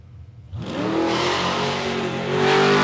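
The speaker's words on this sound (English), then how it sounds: "710 for Tylen Barron as he makes his way down the track." A drag racing car at Palmyra Raceway launches from near silence into a loud, rising engine roar that sweeps upward in pitch as it accelerates down the track, heard from nearby with no talk.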